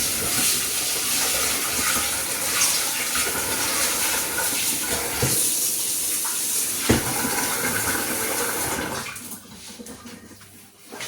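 Dishwashing at a kitchen sink under a running tap, with steady broadband water flow and splashing that carries on for most of the stretch, then drops off sharply near the end.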